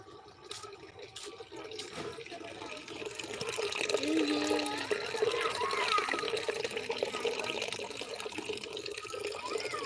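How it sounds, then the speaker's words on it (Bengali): A tap runs steadily into a container, a continuous rushing stream of water that grows a little louder partway through, with faint voices in the background. "আমি জল ধরছি জল।"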